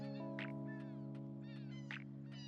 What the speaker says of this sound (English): Why are these birds going so crazy when I make a video?